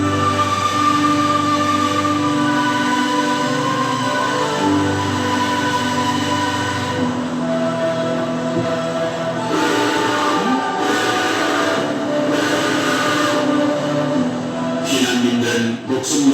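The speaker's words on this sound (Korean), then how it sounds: "피난민들은 목숨 걸고 열차에 몸을 실었다." A train packed with war refugees fleeing across a frozen Han River region in winter rumbles steadily and loudly, with a dense low mechanical drone and brief higher screeching bursts toward the end, and no voices.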